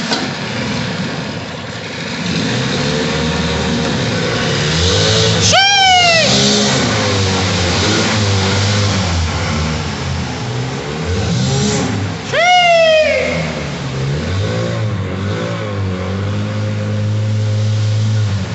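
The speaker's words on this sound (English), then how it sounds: "a 10 horsepower motor inside of a tunnel. That'll be loud." Ten-horsepower motor running inside a tunnel, a loud, booming engine drone with echoing rumble and two sharp rising whine-like bursts, about a third and two-thirds of the way through.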